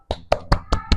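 Studio audience on a podcast claps in five sharp, evenly spaced bursts, close and loud, with no talking underneath.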